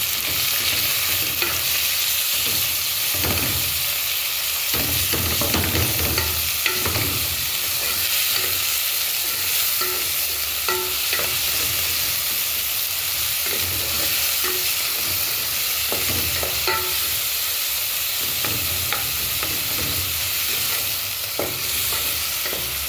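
Minced meat sizzles and fries in a pan with onions while being stirred, a steady loud frying hiss broken by repeated scraping stirs throughout, as the base for Alexandria-style okra.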